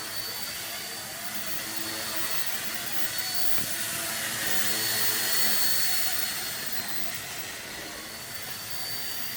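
Eachine 129 mini RC helicopter flying nearby outdoors, a steady high-pitched whine from its rotor and motor that swells slightly and then eases as it spins around.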